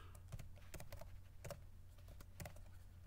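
Quiet clicks of computer keys as a short command is typed in sporadic bursts, close and faint against a steady low hum, with no voices.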